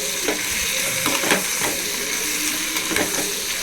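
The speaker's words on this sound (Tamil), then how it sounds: "இப்போ நம்ம கட் பண்ணி வச்சுருக்க கத்திரிக்காய் உருளைக்கிழங்கு ஆட் பண்ணி வதக்கி போடுவோம்" Cut eggplant and potato sautéing in a pan with fried tomato for a dried fish curry, giving a dense continuous sizzle broken by occasional stirring scrapes, close and fairly loud.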